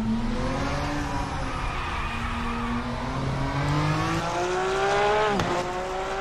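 A race car driven in a racing video game, its engine droning steadily and climbing in pitch as it accelerates, with a quick shift-like dip near the end and a constant roar of speed underneath.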